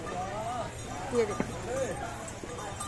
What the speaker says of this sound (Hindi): और घोड़ा देखो बेचारा, वो भी तो उसमें भी जान है